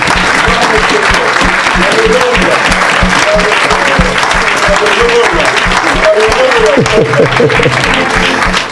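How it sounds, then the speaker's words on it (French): Crowd at a church gathering applauding and cheering loudly, dense continuous clapping filling the whole stretch with voices shouting over it. "Oh, acclame, tu peux faire mieux que ça."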